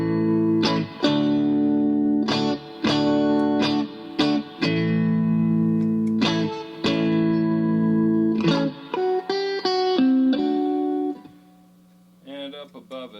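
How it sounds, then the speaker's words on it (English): An electric guitar plays ringing chords and single notes, each decaying into a spacious reverb tail, with distorted tone and brief pauses. "And it's just a simple reverb."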